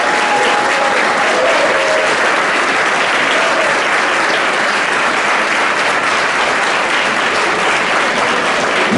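Loud, sustained applause from a football banquet audience cheering coaches and cheerleaders, a thick, even roar of clapping hands with scattered voices beneath, continuous for the whole stretch.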